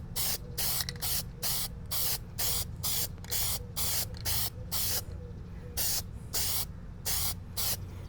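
Short bursts of aerosol spray paint hissing in a steady rhythm, about a dozen quick sprays with brief pauses between, close by and fairly loud, while blacking out chrome badges on a 2023 Subaru Solterra.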